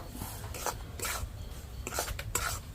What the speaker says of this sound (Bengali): সুজি দিয়ে হালকা করে একটু নেড়ে নেব